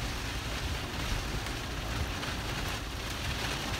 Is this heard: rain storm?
yes